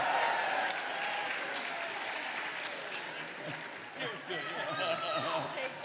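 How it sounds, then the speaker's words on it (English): An audience at an environmental excellence awards celebration claps steadily for several seconds, the applause thinning slightly midway, with voices talking over it. "Big round of applause for these folks, I tell you."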